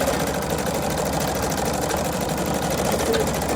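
A Husqvarna Viking Sapphire 85 sewing machine running a test stitch-out, giving a steady, loud, close mechanical whir and rapid needle clatter that holds unbroken for the whole stretch.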